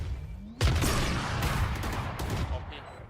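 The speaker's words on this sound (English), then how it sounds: "All missiles away." Missiles launching during a Valorant pro match, a sudden loud blast followed by a dense, roaring barrage of impacts and rumble that holds steady for a few seconds.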